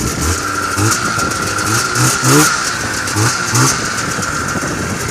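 A 1993 Yamaha Exciter snowmobile with tuned carbs and no electric start runs close by, its two-stroke engine idling roughly, then revving up in a few quick rising blips before settling back down.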